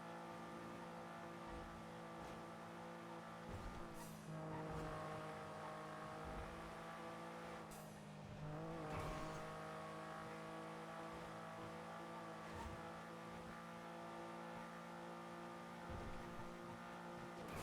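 Engine of a car in GTA V picks up revs as it jolts over road bumps, a steady droning tone with brief surges and dips, fairly close and with no talk over it.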